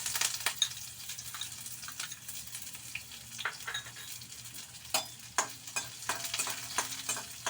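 Chopped onion and nigella seeds fry in a pan, with a soft steady sizzle broken by repeated close scrapes and clinks of stirring.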